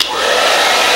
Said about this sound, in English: Another option for drying the canvas, if you don't have a sunny climate, is to use a hairdryer.